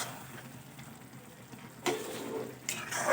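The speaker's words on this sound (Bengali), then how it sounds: "আমি একটু ঘন ঘন নাড়তে থাকবো, নাহলে মশলা দেওয়া আছে তলায় ধরে যেতে পারে।" Spinach (palong shaak) with spices stirred in its own released water in a pan, a low steady sizzle broken by louder scraping, sloshing stirs near the end.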